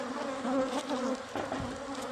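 A bee colony living inside a wall cavity drones in a dense, steady buzz, loud and close throughout with no voices.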